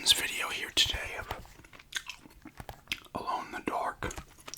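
Gum chewed close to the microphone in a soft-spoken ASMR recording, with wet smacking and clicking chews at an uneven rhythm and quiet whispered talk between them.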